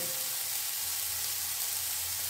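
Chopped tomatoes fry in a pan while being stirred, giving a soft, steady hiss of sizzling oil that stays even and fairly quiet throughout.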